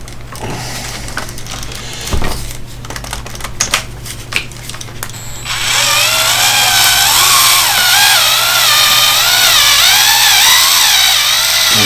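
A power tool drives a screw into a plastic Traxxas E-Revo A-arm: some clicks and handling noises up front, then a steady, loud whirring drive with a wavering pitch that runs for several seconds.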